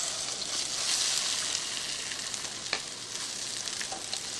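Turmeric powder hitting hot oil in a pan for a spicy Indian chicken curry, a dense continuous sizzle and hiss up close, steady with a few small crackles and stirring scrapes.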